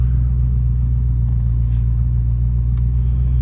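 A 1994 Range Rover Aegean Blue with an automatic gearbox, its engine under light throttle, giving a loud, steady, even low rumble heard from inside the cabin throughout.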